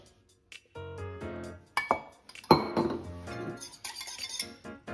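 Eggs clinking against a glass bowl as they are added to brioche dough, a series of sharp bright clinks and taps with short pauses, close and clear.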